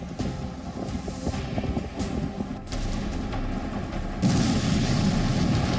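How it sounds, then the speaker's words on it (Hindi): Deep booms and rumbling blasts from wartime explosions in Ukraine, heavy low thuds rolling one after another with a sustained roar, growing denser and louder toward the end, no voices. "हो रहे हैं केवल धमाके"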